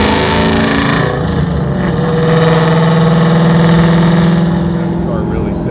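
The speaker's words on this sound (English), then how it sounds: "That car really sounds nice. It's loud, huh?" A 1000HP Whipple supercharged Terminator Cobra engine rumbles loud and close, holding a steady throaty drone with a slight swell, while people talk over it.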